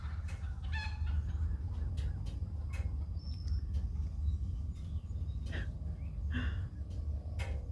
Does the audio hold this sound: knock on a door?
no